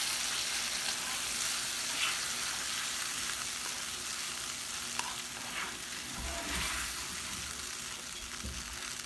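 Brown gravy and vegetables warming in a pan give a steady, close sizzle with soft bubbling and occasional scraping stirs, continuous and even in level with no voices.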